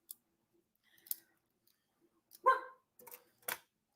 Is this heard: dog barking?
yes